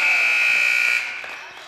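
At a 4th grade boys' basketball game against Sharon, a loud electronic buzzer ends the first quarter with one steady, sustained tone about a second long, then fades into gym noise.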